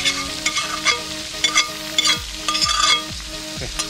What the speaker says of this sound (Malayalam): ഈ എണ്ണയ്ക്കകത്തിട്ട് നന്നായിട്ട് വഴറ്റി ഒരു പേസ്റ്റ് പതിവത്തിൽ ആക്കിയെടുക്കുമ്പോൾ